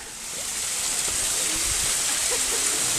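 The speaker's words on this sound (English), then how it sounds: "There's a little waterfall." A small waterfall in California rushes with a steady, broad splashing hiss, fairly close, with no voices.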